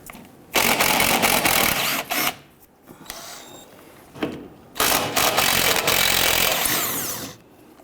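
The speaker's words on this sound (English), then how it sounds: "I'm going to remove our 10mm bolts," A ratchet works 10mm bolts loose from the engine splash shield of a Jeep Grand Cherokee, giving loud runs of fast clicking that break off between bolts and then start again close to the mic.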